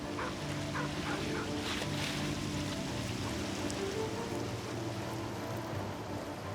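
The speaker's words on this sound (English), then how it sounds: "The waves constantly slapping at their foundations are destroying all the city's buildings." Water from motorboat wakes washes and slaps steadily against the stone walls and foundations of Venice's canal buildings, a constant dense splashing backwash with no talk.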